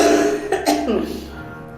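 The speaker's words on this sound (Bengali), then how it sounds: "উনি হঠাৎ খুব জোরে জোরে কাশতে শুরু করলেন" A man coughs loudly twice in harsh bursts close by, with a throaty, rattling tone.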